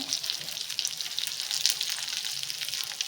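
Garlic, ginger and green chillies fry in a pan with a steady, crackling sizzle and light spitting pops, close and continuous.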